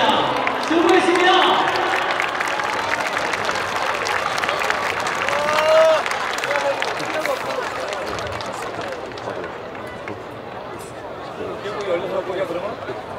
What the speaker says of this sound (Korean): 우리 수원 FC의 미래 SK 강남팬이신 유승현 축구클럽 친구들에게 따뜻한 박수를 보내주시면 고맙겠습니다